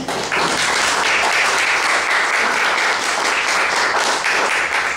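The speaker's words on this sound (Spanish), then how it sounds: "Un aplauso, por favor." An audience at a poetry criticism debate in a café applauds steadily, a dense, sustained round of clapping close by without any speech over it.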